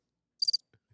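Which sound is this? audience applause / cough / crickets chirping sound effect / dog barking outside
crickets chirping sound effect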